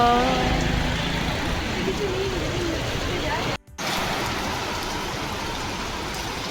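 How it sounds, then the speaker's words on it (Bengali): Steady rain falls on a busy street in Bowbazar, Kolkata, as a loud continuous wash, with passing traffic beneath it and faint voices near the start. The sound briefly cuts out midway, then resumes. "আর বৃষ্টি এসে গেছে এখানে সবাই দাঁড়িয়ে পড়েছে"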